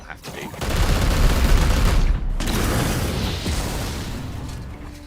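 Repeated explosions and gunfire in the Warhammer 40k Chaos Gate video game, a loud dense barrage of blasts and crackling bursts that rolls on steadily, easing slightly toward the end.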